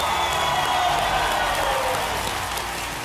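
Loud, continuous applause from a studio audience welcoming the Indian women's cricket team on a game show, dense and steady with no pause.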